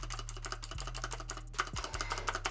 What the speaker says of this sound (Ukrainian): ця клавіатура якось голосніша